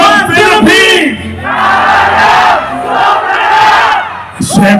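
A rally crowd at the People's Indignation Rally shouts a chant in unison, a loud, close roar of many voices that swells and holds for several seconds.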